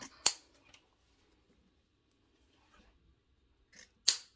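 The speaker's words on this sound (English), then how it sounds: "we'll just have to cut that off a bit." Scissors snip through sisal fibre while a bunny wreath is being made, giving two crisp, close cuts about four seconds apart with near silence between them.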